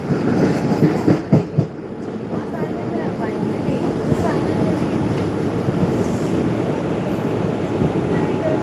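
A train rolls along the rails with a continuous rumble and a few sharp clacks early on, steady and close, as if heard from inside a carriage.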